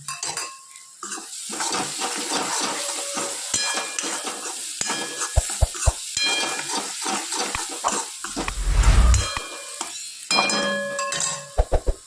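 Crushed tomatoes and onions sizzle in a pan while a spoon stirs them, knocking and clinking against the metal in quick, irregular strokes, with a brief louder scrape near the end. No one talks.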